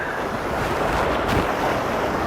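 Heavy ocean swell rolls along the rocky coast of Geoje during a fishing trip, a steady wash of surf mixed with wind buffeting the microphone.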